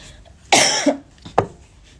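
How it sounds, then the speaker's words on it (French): A single close cough bursts out, followed a moment later by a shorter second cough. "Désolée, je tousse."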